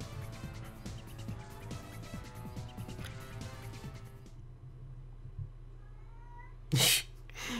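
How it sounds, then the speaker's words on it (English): A cat meows in the background of a room, a few faint cries sounding behind video game music and effects, with one louder burst near the end. "You guys can probably hear my cat meowing in the background."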